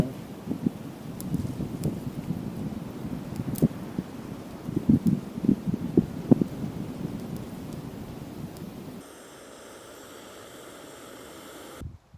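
Wind gusts outdoors at an overnight camp on the Pigeon Roost Trail in Arkansas, rumbling and buffeting with rustling leaves and crackles for about nine seconds before dropping to a quieter, steadier hiss.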